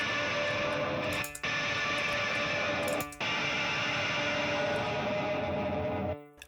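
Time-stretched recording of rocks thrown onto the side of a metal bridge, run through a heavy-mode amp and cabinet, gives a dense, roaring distorted wash that cuts out briefly twice before fading at the end.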